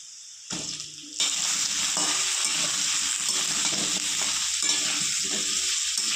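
Potatoes tipped into hot oil in a frying pan for a vegetarian vegetable curry, setting off a loud, steady sizzle that jumps up sharply after a softer start and keeps crackling close by with no talking.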